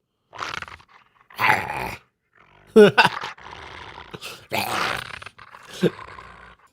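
A small, aggressive dog growls and snarls in several rough, uneven bursts, loud and close, with short quiet gaps between them and no talking.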